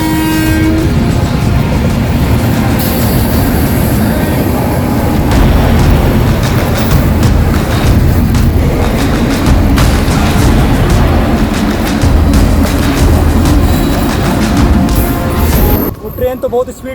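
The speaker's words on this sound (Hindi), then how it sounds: "ये तो किसी रेलगाड़ी की आवाज़ है" Train passing at high speed near a railway track in the wild, a loud sustained rumble and rattle of wagons with a horn-like tone at the start, ending abruptly as it clears.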